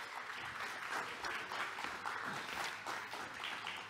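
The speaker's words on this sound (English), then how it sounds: "give him a round of applause and welcome him as he comes forward" A congregation at a cowboy church applauds to welcome a speaker, steady moderate clapping from many hands with slight swells, heard from a distance.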